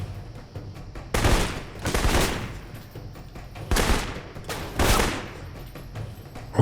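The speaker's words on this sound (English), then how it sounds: "somebody else shooting at me now" Bursts of in-game gunfire from an enemy shooting at the player in the video game Alpha Protocol, arriving in several loud, broad volleys spread across a few seconds with quieter gaps between.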